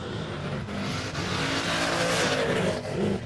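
Drag racing car launching off the start line at Warwick Dragway, a loud, continuous engine roar that swells and stays heavy throughout, close by, with no talking.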